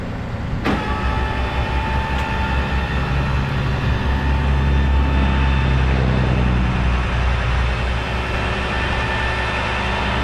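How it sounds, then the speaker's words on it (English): An electric winch hauling a Toyota Tundra missing a wheel out of a tight spot, a loud, steady motor whine and hum running continuously throughout after a brief click at the start. "I'm going to winch off now"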